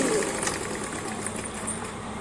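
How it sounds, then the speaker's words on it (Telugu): A sewing machine running a straight seam through saree cloth, giving a steady, close whirring motor hum with a fine rapid rattle throughout. "అపోజిట్ దిశలో శారీ క్లాత్ కుట్టుకోవాలి. ఇలా స్ట్రేట్గా అయితే ఒక కుట్టు పెట్టేసుకోవాలి."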